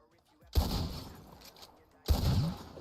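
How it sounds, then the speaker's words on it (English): Two loud gunshots at bottles in a roleplay video game, each a sharp blast at close range followed by a decaying rumble, separated by about a second and a half of quieter tail. "See how many bottles you can shoot."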